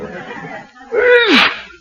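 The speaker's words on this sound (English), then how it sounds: "Now, how do you explain that second sneeze?" A single loud, close sneeze performed by an actor in a 1945 radio comedy drama, Adventures of Topper, preceded by a soft breathy wind-up before the sharp, pitch-falling burst that trails off quickly.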